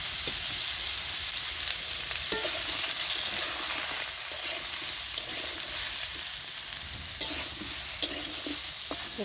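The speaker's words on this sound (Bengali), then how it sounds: "ওই তেলের মধ্যে কাঁঠালগুলো দিয়ে ভেজে নিচ্ছি।" Jackfruit pieces fry in hot oil with a continuous, moderately loud sizzle, broken now and then by light clicks and scrapes of stirring, with no voices.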